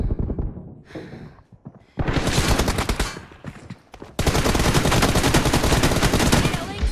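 Rapid video game gunfire cracks out in dense, loud automatic bursts, one short volley followed by two longer sustained streams with brief gaps between them.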